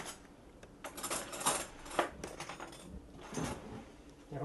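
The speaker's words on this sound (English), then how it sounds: "I'm going to go ahead and pull the spinach out and stir it" Spinach is stirred with a spoon in a pot while making keto chicken parm, giving irregular soft scrapes and light clinks of metal on cookware, close but quiet, in bursts with brief pauses and no talking.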